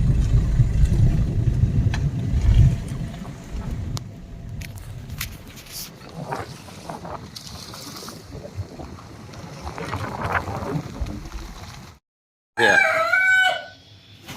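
A rooster crows on a farm, one clear, loud call near the end, after a long stretch of rumbling outdoor background noise and a brief moment of silence.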